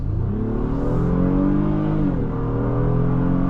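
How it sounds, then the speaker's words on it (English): A 2024 Honda Pilot EX-L's V6 engine accelerates loudly and steadily, its pitch climbing, dipping briefly at a gear change, then rising again. "Classic V6 sound. I love the way this engine sounds."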